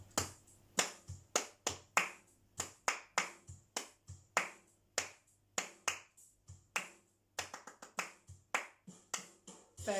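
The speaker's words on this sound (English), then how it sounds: "we're just going to clap it together" Group of students clapping a steady rhythm together in a music lesson, crisp sharp claps in a regular beat-counting pattern, close and clear with brief pauses between phrases.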